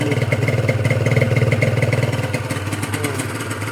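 A Honda NSR150 two-stroke motorcycle engine runs after starting with smoke, giving a loud, close, fast rhythmic putter with a rattly edge and a steady idle.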